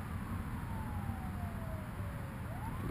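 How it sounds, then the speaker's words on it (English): A wailing emergency siren sweeps slowly in pitch in the background on a San Diego night, steady and fairly distant under a constant low rumble of city noise. "Sirens in the background."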